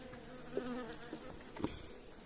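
Honey bees inside a hive as the colonies are readied for winter, a soft continuous buzzing hum close by with a few brief louder bumps, faint and without speech.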